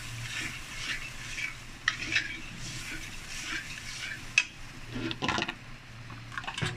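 Milk goes into a pot of sugar and rice for sweet zarda rice and gets stirred, making steady scraping and sizzling kitchen sounds with a few sharp clinks of a spoon against the pot, close by and with no talk.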